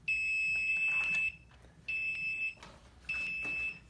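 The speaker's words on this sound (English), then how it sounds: "I can also force the alarm to go by holding this button down." An alarm clock's shrill electronic alarm rings in three long bursts separated by short pauses, loud and close.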